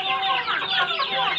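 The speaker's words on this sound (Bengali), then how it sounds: "এখানে 70টা প্লাস আছে মুরগি।" A flock of more than seventy farm hens, mostly native birds with a few Egyptian layers, clucks and chatters busily at close range in an overlapping, continuous burst.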